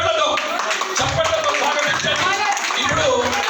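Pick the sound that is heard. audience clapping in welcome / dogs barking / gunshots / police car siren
audience clapping in welcome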